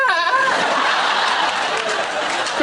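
A goat bleats in a long, wavering, slightly broken-sounding cry that fills the whole moment, loud and close.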